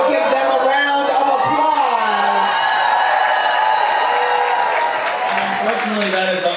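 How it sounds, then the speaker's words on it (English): Crowd applause and cheering at a kiki ballroom event, steady broadband clapping throughout with whoops and voices talking and shouting over it. "But give them a round of"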